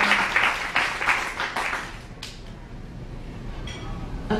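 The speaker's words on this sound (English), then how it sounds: "he deserves an applause" Audience applause at a poetry reading in Washington, D.C., a burst of clapping that fades over a few seconds into a quieter room, with a faint voice near the end.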